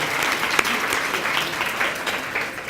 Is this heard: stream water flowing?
no